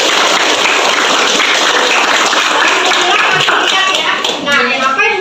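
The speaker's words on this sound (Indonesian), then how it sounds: "Tepuk tangan." Loud, close applause from students in a classroom, a dense burst of hand clapping with scattered taps and shuffling, fading slightly near the end.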